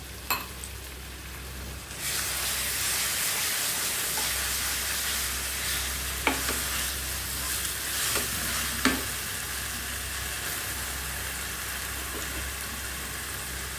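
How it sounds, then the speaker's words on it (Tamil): Potatoes stir-frying in a pan for Tamil potato poriyal, a steady, loud sizzle that runs throughout, with occasional sharp clinks and scrapes of stirring. "லேயர்ஸாக தீ வச்சு வணக்கிட்டே இருக்கணுங்க"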